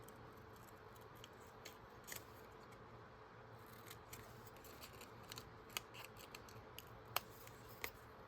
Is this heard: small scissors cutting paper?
yes